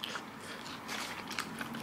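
Crispy fried pan pizza crust being bitten and chewed, soft close crunching over a busy café-like background hum, faint and continuous without talk.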